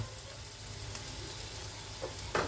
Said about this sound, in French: Et là, je vais rajouter ma viande, je vais mélanger tout ça.